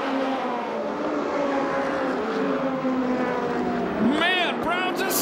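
Midget race cars at a USAC Western States race at Perris, California, with engines droning and whining steadily as the cars circle the track, loud and continuous under a commentator's voice.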